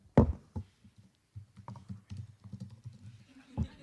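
Soft, irregular clicking and tapping of computer keys, close by, with a couple of heavier thumps at the start and end.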